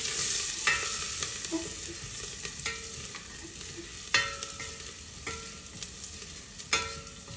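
Garlic, hing and a single green chilli frying in oil in a pot, stirred with a spoon: a steady close sizzle with repeated scraping strokes and light knocks against the pot, no talking.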